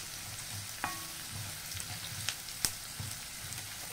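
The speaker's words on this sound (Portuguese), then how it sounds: "apurando aqui os sabores dos dois com a nossa banha. Vamos deixá-la fritar um pouquinho." Chicken gizzards fry in lard in a pan with a steady, fairly quiet broadband sizzle, broken by a few sharp pops and utensil clicks, with no voices.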